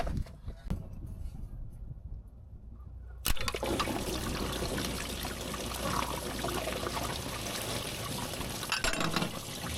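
Coolant pouring out of a BMW engine into a small funnel over cardboard, a near, continuous liquid gush that starts abruptly after a few seconds of quieter handling noise and keeps trickling steadily.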